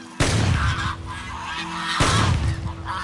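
Wild geese honk loudly as a flock lifts off from reeds. Harsh, overlapping calls come in two close bursts with a thick wash of flapping and rustle underneath.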